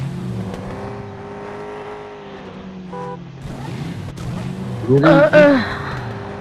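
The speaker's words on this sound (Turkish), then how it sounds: "arabanın sesine bak muhteşem bir şey" A car engine drives and revs in the PUBG video game, a steady mid-level motor drone with a surge toward the end, while people talk over it.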